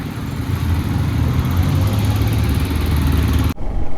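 A motorcycle loaded with a top box sets off from Kargil toward Leh in Ladakh, its engine running steadily and close for several seconds before cutting out abruptly near the end, with no talk.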